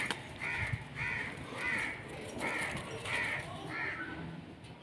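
A flock of crows caws overhead outdoors, six evenly spaced harsh calls at moderate distance over a low background hum, with no talking.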